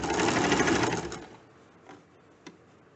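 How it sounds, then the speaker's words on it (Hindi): An electric sewing machine stitches fabric in a fast, close, whirring burst for about a second, then stops, leaving only a couple of faint clicks and handling sounds. "बाकी के भाग को इसी तरह से सिलना जारी रखते हैं और ये कंप्लीट कर लेते हैं।"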